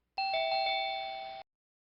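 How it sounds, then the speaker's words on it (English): A doorbell gives one clear electronic chime lasting just over a second, close and clean, ending abruptly and followed by silence. "The doorbell rang furiously"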